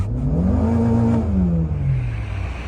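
A Honda Accord G8 with a 2.0 engine, tuned to run on 95 gasohol, revs up in a steady rising then falling drone, close and loud, with no talking over it.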